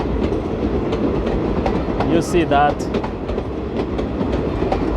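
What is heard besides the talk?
long train passing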